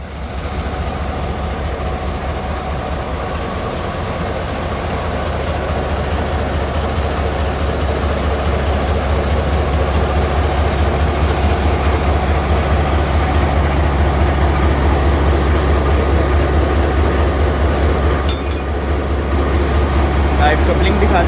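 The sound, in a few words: GMC 154901 locomotive coupling to Chenab Express rake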